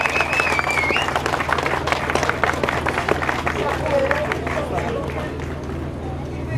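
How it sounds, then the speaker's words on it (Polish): Spectators at a hillclimb motorsport event clap and cheer outdoors in a dense, continuous roar mixed with crowd babble, a steady loud wash with a low hum beneath and a faint whistle early on. "gorące brawa"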